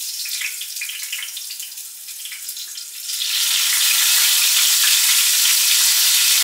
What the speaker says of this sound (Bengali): বেগুনটা ভাজতে হবে।